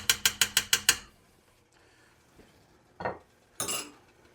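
A metal spoon stirring a pot of chili: six quick, evenly spaced clinks against the pot, then a soft scrape and a brighter clatter after a pause. It is close and moderately loud, with no talking.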